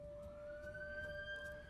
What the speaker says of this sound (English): Oop, sorry about the siren.